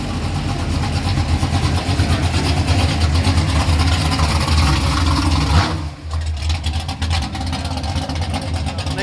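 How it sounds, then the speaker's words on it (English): Classic Chevrolet Nova rolling in at a car show, its choppy engine rumbling close and steady, then dipping briefly before idling on, with voices faintly in the background. "Nice sounding Nova rolling in."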